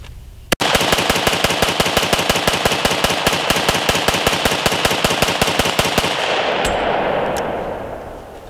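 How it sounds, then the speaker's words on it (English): A rifle on a Starlos SLF-15 polymer lower empties a 30-round magazine in one rapid, evenly spaced string of loud, sharp shots, which stops abruptly and leaves a fading echo and a couple of light metallic clinks. "The rifle fired all 500 rounds without any issue."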